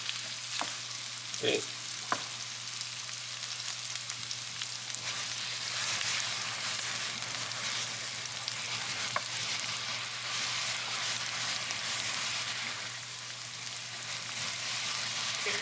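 Beaten eggs fry and are stirred in a pan for egg fried rice, a continuous close sizzle with a few utensil knocks early on and one brief spoken word.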